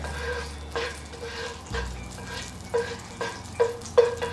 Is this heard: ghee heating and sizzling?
yes